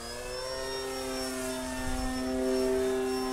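A 1/7-scale Sopwith Camel RC model fighter plane flies in a crosswind, its engine a steady tonal drone that swells slightly louder toward the end, with no talk.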